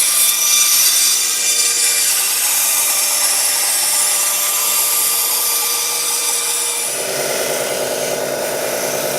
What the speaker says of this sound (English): we'll cut the rest of this out on the bandsaw first